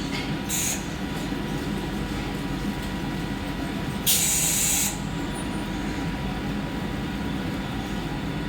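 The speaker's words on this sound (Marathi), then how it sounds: "Local arrived on platform number 1" A slow Mumbai local train bound for Kalyan pulls into platform 1 at a busy station, its loud steady rumble broken by two sharp bursts of hissing air.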